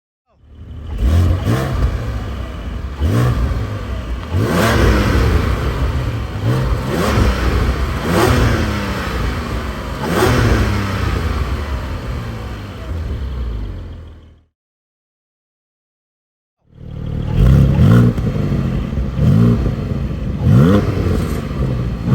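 Porsche 718 GTS 4.0 engine fitted with a Soul valve controller revving hard in repeated surges with crackles, then a few seconds of silence before more loud revving resumes.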